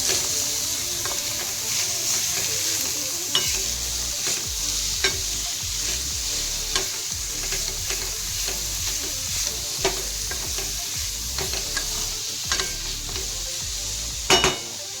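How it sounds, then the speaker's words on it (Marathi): Tender jackfruit curry is stirred and mixed in a pan: a constant loud sizzle under repeated scraping and clanking strokes of the spoon, with a sharper knock near the end. "चांगलं मिक्स करून घ्यायचं या पद्धतीने मिक्स करून घ्यायचं"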